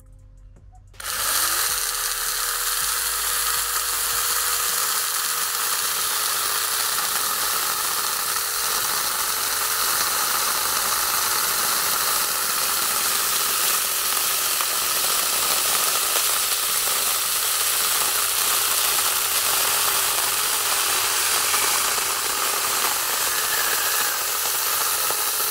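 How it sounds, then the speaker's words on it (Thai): Small 4-inch cordless electric chainsaw cutting through thick wet wood: after a brief quiet start, a loud, continuous high-pitched motor whine and chain rasp runs steadily for over twenty seconds, close up and unbroken. "ผมจะไปทดลองใช้งานตัวเลื่อยโซ่ไร้สายขนาด4นิ้วตัวนี้ดูว่าเขาจะทำงานได้ดีหรือไม่"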